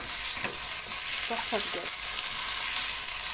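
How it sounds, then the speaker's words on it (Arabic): Chicken and onion sizzle steadily in a pan for shish tawook while a utensil scrapes and stirs in a few short strokes, close by, with a brief remark spoken over the cooking. "هنفضل نقلب كده لغايه ما البصله تدبل خالص معانا"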